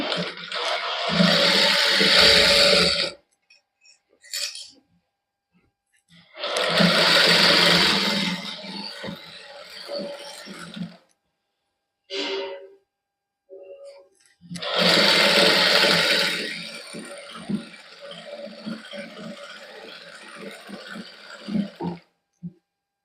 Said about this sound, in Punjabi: ਹੁਣ ਇਸ ਤਰ੍ਹਾਂ ਆਪਾਂ ਸਿੱਧਾ ਕਰਕੇ ਇਹਦੇ ਉੱਪਰ ਸਲਾਈ ਲਾ ਦਿੰਨੇ ਆ ਦਬਵੇਂ